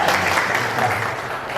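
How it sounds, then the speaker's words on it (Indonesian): Audience applause at an event honoring two young girl inventors, a short, loud, continuous burst of clapping from a crowd. "Tepuk tangan."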